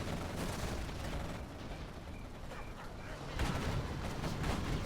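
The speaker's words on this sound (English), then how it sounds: "Oh, nice Scorpion rocket attack there." Scorpion rocket attack in a real-time strategy game, heard as a dense crackling barrage of rapid blasts and gunfire, continuous with a sharper burst near the end, under faint commentary.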